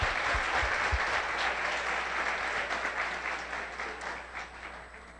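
A church congregation applauds steadily for about five seconds, a dense, close wash of clapping hands that slowly fades a little toward the end, with no speech over it.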